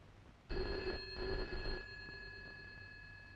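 An indoor telephone rings in rapid bell-like bursts for a little over a second, loud and close, then stops, leaving a quiet room.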